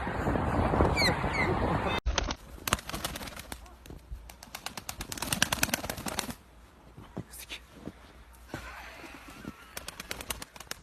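A large flock of birds at a city intersection, with dense rapid wing flapping and fluttering after an abrupt cut, shifting in bursts and close by, with twittering calls among them.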